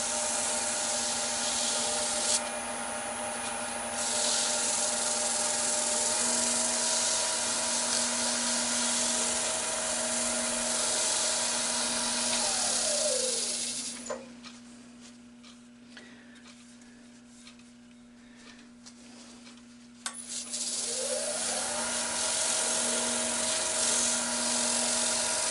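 A rotary burnishing tool whirs steadily and loudly against a dyed surface to dry it, with a sustained humming drone that drops away for several seconds mid-way and then spins back up.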